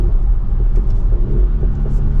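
A 2024 Audi SQ5's deep exhaust rumble while driving, a steady low drone with slight swells, close and fairly loud, no voices.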